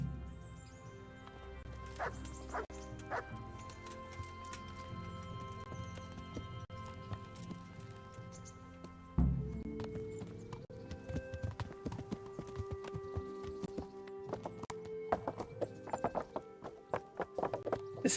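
Horses ridden in the Kingdom Come: Deliverance video game give a steady, rhythmic clip-clop of hooves that continues throughout alongside ambient game sounds, with an occasional barking dog.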